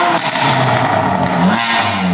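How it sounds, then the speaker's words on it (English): A BMW M4 with a loud aftermarket exhaust revving up, the engine rising and falling in sustained, close, loud blips with no talk over it. "Go a little higher up on the revs."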